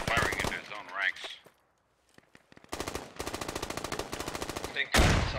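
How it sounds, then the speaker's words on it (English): Gunfire in the video game Squad, heard as a grenade launcher shooting: a sharp burst, a short lull with a few isolated shots, then long rapid volleys of loud cracks close by, with voices briefly talking at the start. "Is that a friendly GL that's firing?"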